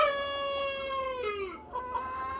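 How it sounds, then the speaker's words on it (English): Mille Fleur Brahma rooster crowing among hens, one close clear call lasting about a second and a half that falls in pitch, followed by softer clucks. "He's a Millie Fleur Brahma rooster."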